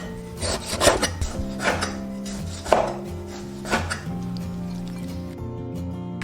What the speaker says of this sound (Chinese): 准备一小块洗净的五花肉切片